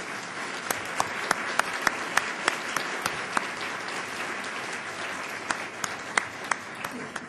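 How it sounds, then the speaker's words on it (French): An audience at a lecture gives a sustained round of applause, with dense steady clapping, a few sharper individual claps standing out and a murmur of voices beneath. "Je pense que ça mérite d'entrée de jeu une belle main d'applaudissements."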